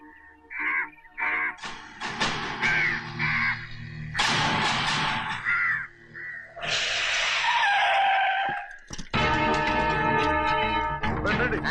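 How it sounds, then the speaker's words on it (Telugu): Crows caw in short, harsh bursts, several calls in quick clusters, loud and close, broken by other sharp noises in a comic scene. "ఈ ఏరియాలో ఒక్క కాకి కూడా ఉండాలని వీలేదు"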